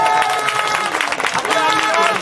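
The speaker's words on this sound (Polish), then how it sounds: "Wielkie, wielkie brawa, Wilki Łódzkie!" A crowd at a Wilki Łódzkie versus Angels Toruń match applauds the Wilki Łódzkie team, with loud, dense clapping and cheering under a voice speaking over the noise.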